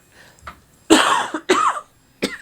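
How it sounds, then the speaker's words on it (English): A short throat sound, then two loud, harsh coughs close to the microphone, followed by a smaller final cough. "Sorry, I'm going to cough."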